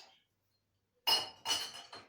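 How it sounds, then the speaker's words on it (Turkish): Dishes being gathered up in a home kitchen while preparing gözleme, giving a few close, bright clinks and clatters of plates and cutlery in two or three short bursts after a brief quiet. "Şimdi bulaşıkları şuradan toplayayım"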